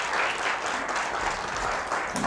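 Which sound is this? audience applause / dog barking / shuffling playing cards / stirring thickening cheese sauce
audience applause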